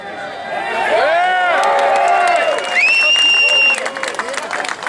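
A political rally crowd cheers and shouts loudly and continuously, with whoops and raised voices layered over one another, close and dense throughout.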